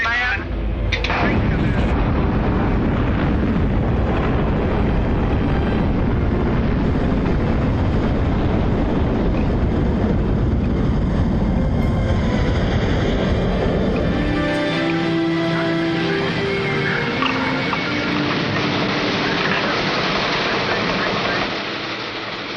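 Archival recording of the Explorer 1 rocket launch at Cape Canaveral: a loud, sustained roar fills the whole stretch, rumbling and crackling before easing slightly toward the end.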